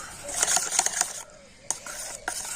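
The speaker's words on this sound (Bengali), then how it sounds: "তো দেখুন এইরকম করে কিন্তু ফেটিয়ে নিতে হবে" A whisk or spoon beats a creamy batter of yogurt, sugar and butter in a bowl for a chocolate cake, quick clinking strokes against the bowl, then a pause and a few scattered taps, close and alone.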